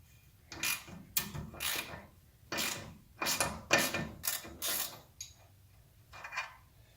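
Ratchet wrench loosening the sway bar link nut on a 2001 Ford Ranger, a series of quick clicking bursts close by with short pauses between strokes.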